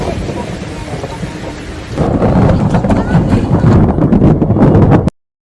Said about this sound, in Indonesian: Tidak biasanya hujan deras seperti ini.